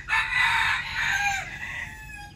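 A young talisayin rooster crows once in a long, strained call, loud and close, with a brief break midway and no other sounds around it.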